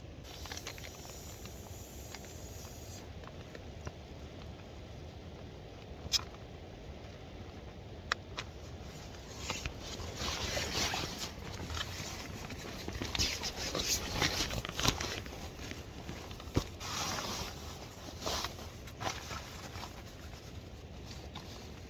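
Rain patters steadily on a tent during wild camping in the Scottish Highlands, a soft, dense hiss with scattered sharper drop taps that grows heavier partway through.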